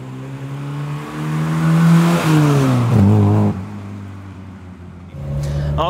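A Lada Riva with a 3-inch straight-through exhaust is driven hard, its loud engine revving up through the gears, dropping between shifts and climbing again, close and alone without talk.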